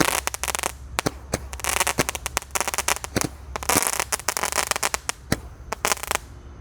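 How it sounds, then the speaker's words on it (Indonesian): A Roman candle firework fires off its 15 shots in a rapid, uneven burst of sharp bangs and crackles, loud and close, with no talking over it. "Top 15 shot berhasil menyala guys."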